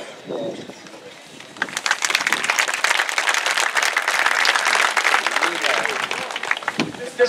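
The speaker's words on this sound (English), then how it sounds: "give yourselves a round of applause" A school football gathering's audience breaks into loud sustained applause and clapping after a short quieter lead-in, the dense clatter of many hands filling the room until it tapers near the end.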